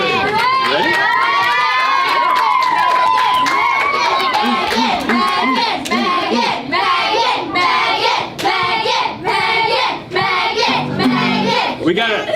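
A lively crowd at a show, largely children, shouts and cheers loudly, with scattered clapping and excited voices throughout, rising and dipping in rhythmic waves.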